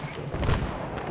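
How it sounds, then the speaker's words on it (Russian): Shotgun fire in Battlefield 3: a dense burst of muffled booming blasts in quick succession, loud and close, with the rumble of battle around them. "На подавление стреляю из дробовика"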